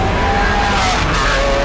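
Lamborghini Aventador SVJ fitted with a Deutschtech DTX exhaust, a loud, steady engine roar held close throughout with a slight tonal shift partway, no talking.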